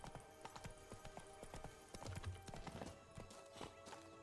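Horse hooves clip-clop in steady, close rhythm across dirt as a mount is led along in The Witcher III: Blood & Wine, a faint whinny and soft ambient game sounds beneath.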